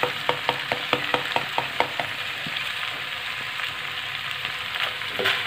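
Mixed vegetables with garam masala sizzle steadily in a pan, while a series of even scraping stirs rings out close up, then the frying settles into a softer hiss with no talk.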